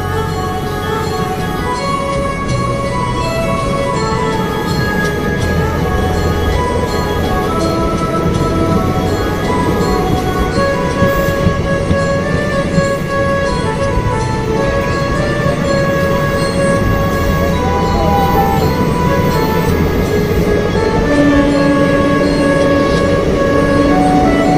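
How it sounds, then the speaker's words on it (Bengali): The North East Aastha Special express train passes close by in a loud, continuous rumble of wheels and carriages with ringing metallic tones, holding steady for the full length without voices. "এটাই হচ্ছে ওই গাড়িটা আস্থা স্পেশাল রামভক্তদের নিয়ে আসছে"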